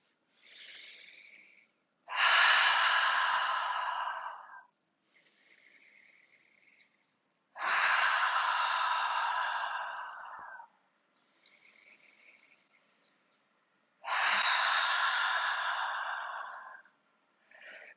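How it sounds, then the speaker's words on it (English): Slow, deep breaths during a yoga breathing exercise: three long, loud exhalations alternate with softer, quieter inhalations in a steady rhythm, close up with no talking. "take 3 more breaths"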